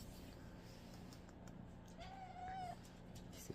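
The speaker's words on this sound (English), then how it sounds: "He's a baby kitty." A single drawn-out cat meow, quiet and fairly close, rising briefly then holding, over a low steady background hum.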